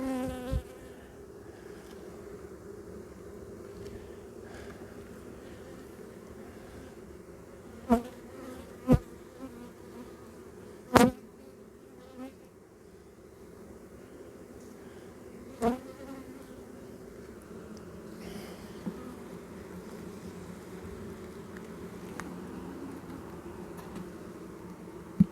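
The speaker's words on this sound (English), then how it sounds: "Look at this nice little circle of bees getting something to eat right there." Honey bees hum at an open hive during a frame inspection, a steady close buzzing drone throughout with a few sharp knocks and clicks from handling.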